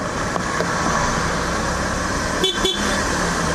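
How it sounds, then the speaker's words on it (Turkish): A motorcycle horn gives two quick toots close by, sounding over steady road and wind noise while riding in traffic near a truck. "Yani üç sefer normalde kornaya basıyorum."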